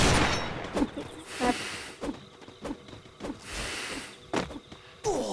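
Pistol shots in the Free Fire video game, a series of sharp, separate reports spaced irregularly over a few seconds at moderate loudness, with faint background game sounds.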